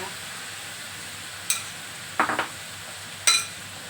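Shrimp stir-fried with chili in a pan, a soft steady sizzle broken by three sharp scrapes of a utensil against the pan, close by.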